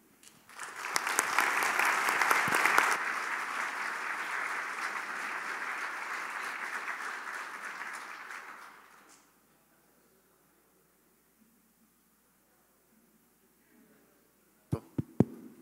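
An audience at the opening of an exhibition of German painter Ernst Saemisch's work at a college claps in sustained, steady applause for about nine seconds, then it fades to near silence, followed by a few faint knocks at the end.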